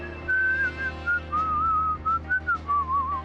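A character whistles a wandering, melodic tune in the video game Deadly Premonition Origins, in short, clear phrases with brief gaps between them and no talking over it.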